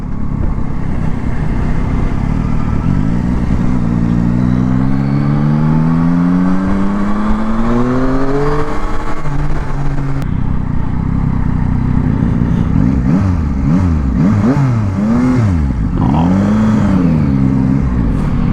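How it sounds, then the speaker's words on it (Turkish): Yamaha Tracer 9 GT motorcycle on its stock exhaust, engine loud and close, rising and falling through repeated revving sweeps as it accelerates and shifts, with no talk over it. "Ses muhteşem. Böyle stok egzoz"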